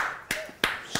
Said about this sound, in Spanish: Estás aplaudiendo con la boca llena